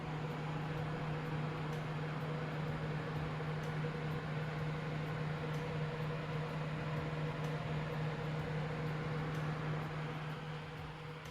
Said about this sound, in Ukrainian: Шум вентиляторів Arctic на максимальних оборотах.